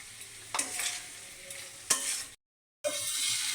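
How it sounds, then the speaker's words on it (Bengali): Katla fish head and lentils being stir-fried in an oil-slicked pan, with a steady close sizzle broken by a few louder stirring scrapes and a brief gap of silence before the frying resumes. "ডাল কষানোর পরে মাছের মাথাটাও এর মধ্যে দিয়ে ডাল সহ মাছের মাথা কষিয়ে নেব"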